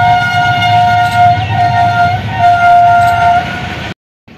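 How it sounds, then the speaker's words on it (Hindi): Train passing close by, a loud sustained horn tone riding over rumbling wheels for nearly four seconds before cutting off abruptly into silence. "रेलगाड़ी जो है ना जा रही है"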